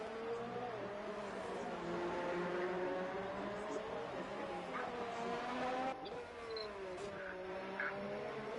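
Formula 1 car engines in the video game F1 2019 at the Russian GP whine steadily with shifting pitch, several cars droning continuously at moderate loudness with no talking over them.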